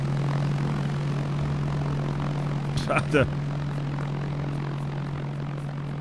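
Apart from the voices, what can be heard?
propeller airplane flying in Arma 3 video game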